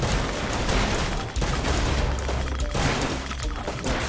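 An explosion in the video game Goat Simulator erupts in a loud, dense burst of crackling blasts and debris, with a brief dropout before the chaotic noise continues.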